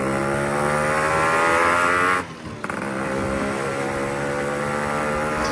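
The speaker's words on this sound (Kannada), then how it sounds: "100cc ಇಷ್ಟೊಂದು ಪವರ್ ಆಗಿರೋ ಗಾಡಿ ಮತ್ತು ಎಕ್ಸಾಸ್ಟ್ ಸೌಂಡ್ ಇದೆ ಅಲ್ಲ, ನೆಕ್ಸ್ಟ್ ಲೆವೆಲ್ ಗುರು" A Yamaha RX 100, a 100cc two-stroke motorcycle fitted with a changed muffler, revs loudly with a sharp, buzzing exhaust, then the throttle drops off abruptly and the engine settles into a steadier, slightly quieter run.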